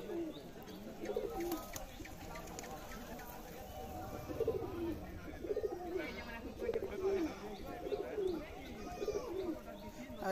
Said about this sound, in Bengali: সকাল থেকে কবুতরগুলোকে খাবার দেওয়া হয়নি।